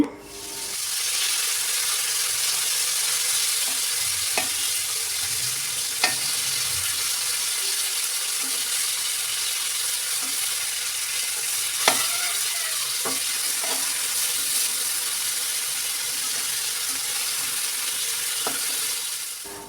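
Shrimp frying in hot oil in a wok, just flipped: a steady loud sizzle runs throughout, broken by a few sharp clicks and scrapes of a spatula against the pan.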